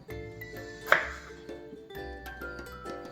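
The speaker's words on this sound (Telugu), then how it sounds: "ఈ బంగాళదుంపని ఎలా కట్ చేసుకోవాలంటే మీకు చూపిస్తాను చూడండి." A knife cuts potatoes into thick pieces on a kitchen board, making a few soft, separate chopping knocks over a steady tonal background hum, with one sharper strike near the start.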